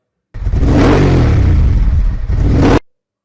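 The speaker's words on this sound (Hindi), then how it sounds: "मोटरसाइकिल।" A motorcycle engine revving close by, one loud sustained rev that swells, dips slightly, then cuts off sharply, heard alone.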